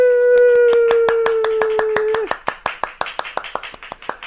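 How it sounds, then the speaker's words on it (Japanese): Rhythmic, fast hand clapping during a prize-draw announcement on a Kyoto travel live show. A sustained bell-like ringing tone sounds over the claps for the first half, then the claps continue alone, crisp and evenly spaced. "拍手"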